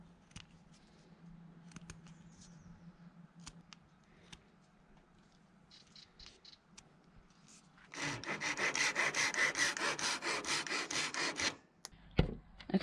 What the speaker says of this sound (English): Now I'm gonna go make some dowels and finish these pieces off.